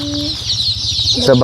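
Chickens cluck close by in a Thai rural yard with a new groundwater well, a short run of clucks over a low steady hum, ending with a louder burst.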